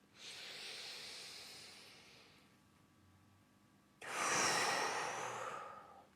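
A long exhale ends in a soft lip blub during a grounding yoga flow, close and quiet, with a breathy hiss. After a pause, a second louder and breathier exhale follows.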